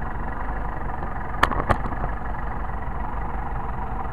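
A Mercedes 190SL engine fitted with Solex carburetors idles at around 1,000 RPM, a steady, loud, close rumble with a couple of brief clicks partway through and no talking.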